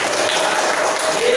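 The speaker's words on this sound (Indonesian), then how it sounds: "Beri tepuk tangan untuk Rifaldi." A classroom of students applauding a classmate, a brief dense burst of clapping that fills the moment at steady loudness.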